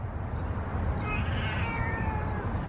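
A feral cat meows in a single drawn-out, rising and falling cry, fairly close and clear against a steady low background hum, with no talking.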